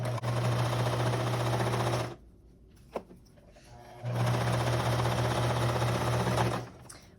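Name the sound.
sewing machine stitching a t-shirt sleeve hem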